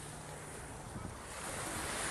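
Sea waves wash onto a sunny beach in a steady broad roar, mixed with wind rushing over the microphone, and the surf swells a little louder toward the end.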